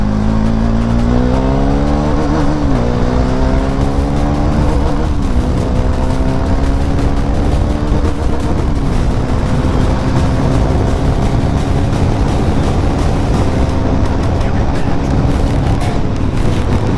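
A KTM motorcycle ridden on a highway bypass: a loud, continuous engine roar up close, rising in pitch through several gear changes in the first seconds, then holding a rough steady drone with wind noise.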